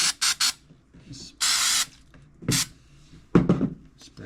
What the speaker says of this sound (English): spray a little bit on there and